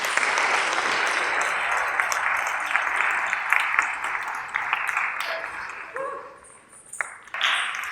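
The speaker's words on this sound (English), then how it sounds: "She deserves a round of applause" A crowd applauding at a Bharatanatyam dance recital in Michigan, dense sustained clapping that fades and thins toward the end before a brief final swell.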